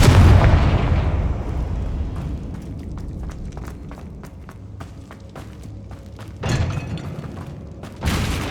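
A Confringo blasting spell goes off in Hogwarts Legacy with a loud opening boom that fades into a rumbling tail, followed by scattered sharp cracks and two later bursts.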